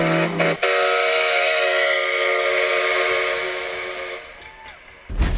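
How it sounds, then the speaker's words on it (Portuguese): A train whistle blows in long sustained tones as a train departs a station in Piratuba, Santa Catarina, loud and steady for several seconds before a brief thump at the end. "pois o trem já está saindo"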